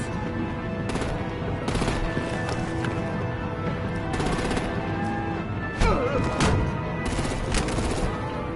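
Bursts of gunfire and artillery from an action scene in the Batman Telltale Series: The Enemy Within game, with repeated sharp volleys recurring across a busy, loud mix.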